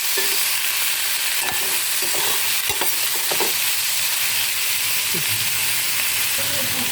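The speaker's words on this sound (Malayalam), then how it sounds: "ഇനി നമുക്ക് ഇലക്ക് കുടവപ്പുളി നാരങ്ങയിട്ട് കൊടുക്കാം നല്ലപോലെ ഇളക്കി മിക്സാക്കി കൊടുക്കാം" Vadukapuli lime pickle is stirred in a hot pan, giving a continuous close sizzle with scattered scraping and clicking from the spoon throughout.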